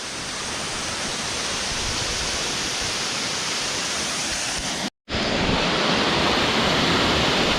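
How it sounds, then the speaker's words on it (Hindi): Rushing water at the Bhagsu waterfall near Dharamshala roars as a loud, dense, steady wash of noise, close by, broken only by a brief cut of silence before resuming. "तो आ गया वाटरफॉल।"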